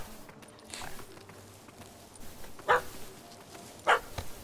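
A dog barks in The Witcher 3: Wild Hunt, two sharp, fairly loud barks spaced about a second apart over quiet ambient background, with a few faint yips earlier.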